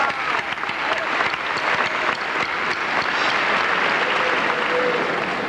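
A large graduation audience claps loudly and continuously in a round of applause, a dense, even roar of many hands with no break.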